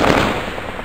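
Gunfire during a mortar fight in Afghanistan comes as one short, loud, harsh burst of rapid reports, filling less than a second.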